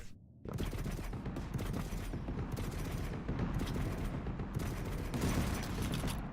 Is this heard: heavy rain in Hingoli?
no